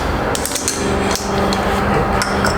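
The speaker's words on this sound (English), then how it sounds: "Hammer that down." Steady metallic hammer blows as a suspension part is driven into place on a BMW G80 M3 during a KW H.A.S. coilover install, loud and close in a busy workshop.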